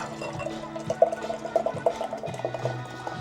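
IPA being poured into a Hackney Brew Church goblet: a faint, gurgling liquid stream with small glugs and splashes, steady throughout at low level.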